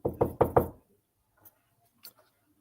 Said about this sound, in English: She's not hearing me knocking.